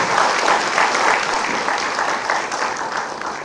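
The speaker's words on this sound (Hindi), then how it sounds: "एक बार ताली बजाइए।" Audience applause at a student merit award ceremony in Dehradun, a sustained, loud burst of many people clapping that stays full and even, tapering only slightly toward the end.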